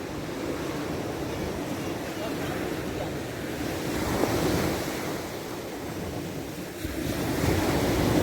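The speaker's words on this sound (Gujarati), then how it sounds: "દરિયો કેટલો મોજા પાડે" Sea waves break on the shore in a continuous loud roar with a swell of surf midway and again near the end, and heavy wind rumbling against the microphone throughout.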